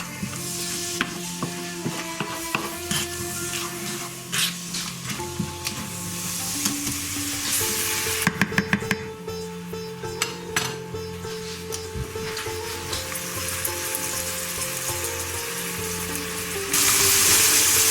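Lamb bhuna cooks in a pan over medium heat, a steady close sizzle with occasional stirring and scraping clinks of a utensil against the pan, no one speaking.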